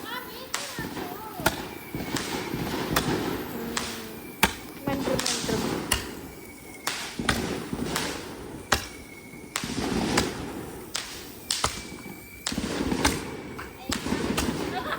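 Firecrackers burst in sharp, loud cracks at a Ramadan and Syawal celebration, popping every second or so across the whole stretch, with people talking and calling out between the blasts.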